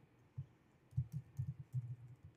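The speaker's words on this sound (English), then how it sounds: "Why do I have trouble typing?" Quiet keystrokes on a computer keyboard while coding an Android NDK client, a faint irregular patter of soft taps clustered in the middle, heard alone with no voices.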